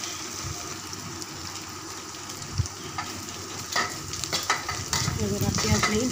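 Two chopped onions hit hot oil with curry leaves, frying with a steady sizzle that swells louder near the end, broken by stirring scrapes and knocks in the pan.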